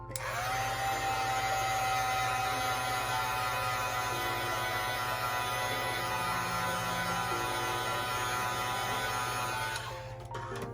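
A hair dryer running continuously to dry paint on a Dollar Tree leaf, a steady loud electric whir and hum that holds for the whole stretch before cutting off near the end.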